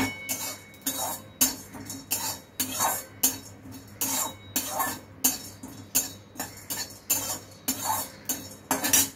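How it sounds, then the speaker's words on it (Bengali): A pan on low flame is stirred with a metal utensil, giving a regular series of scraping clinks and taps, about one or two per second, with a faint sizzle beneath. "এগুলো আগে আমি এখানে হালকাভাবে ভেজে নেব। লো ফ্লেমে ভাজবেন।"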